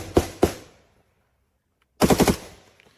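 An M16 rifle firing 5.56 rounds, two sharp close shots followed after a pause by a tight burst of four rapid cracks, loud and alone with no talk.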